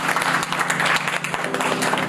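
A room at a sports ministry meeting breaks into applause, a dense burst of many hands clapping nearby, steady and loud for a couple of seconds.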